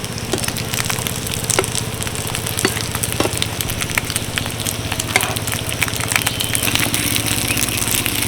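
Stuffed snacks sizzle loudly and steadily in a pan as they are turned, with crackling pops and occasional scraping stirs, no talking.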